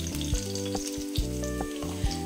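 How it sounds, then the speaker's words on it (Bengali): Chopped garlic sizzles in about three spoons of hot oil in a wok, a steady loud frying crackle with brief stirring scrapes, close and without talk. "প্রথমে একটা কড়াইতে তেল দিয়ে দিয়েছি 3 স্পুন, দিয়ে দিলাম কাটা রসুন।"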